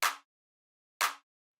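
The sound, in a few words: short mono clap sample, quick hit, for future house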